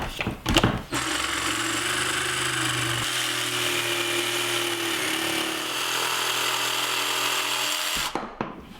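A jigsaw cuts through a wooden board, its dense buzzing rasp held loud and close for roughly seven seconds, preceded and followed by brief handling knocks.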